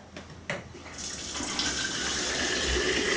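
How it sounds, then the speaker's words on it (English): Tap water runs steadily into a basin as hands are washed, a broadband gush that builds slightly louder over a few seconds, with a couple of soft splashes near the start and no talking. "I better wash my hands again with soap and water."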